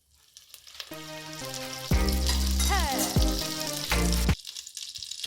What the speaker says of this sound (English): Add my olive oil and then add 1 teaspoon of vegan butter to it.